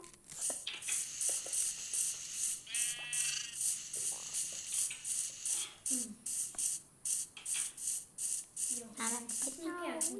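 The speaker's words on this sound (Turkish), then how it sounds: "Canım koyunlarım sizle daha çok küçüksünüz ama ya." Sheep bleat repeatedly through a steady patter of rhythmic sounds, with a person talking in between.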